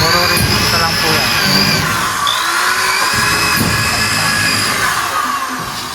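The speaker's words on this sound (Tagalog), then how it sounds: "Drill nyo lang, tapos rivets." Power drill runs with a loud, whirring buzz while drilling into a ceiling frame for rivets, the tool sound steady and close, with someone talking over it.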